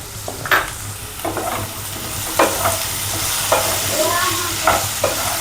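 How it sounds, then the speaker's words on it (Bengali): Potato pieces with salt and a little turmeric fry in oil in a kadai while a spatula stirs them, giving a steady sizzle punctuated by regular scraping strokes every second or so. "হালকা করে নাড়বো হলুদটা দিয়ে"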